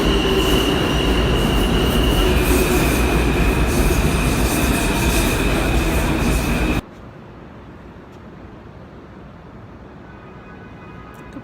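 New York City subway train on its last ride from Times Square, a loud steady roar of wheels and rails with a faint high squeal that cuts abruptly to a much quieter rumbling hum.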